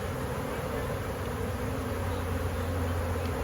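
A massive swarm of honeybees buzzing during transfer into a new hive, a dense steady hum close to the microphone, continuous and even without any voices.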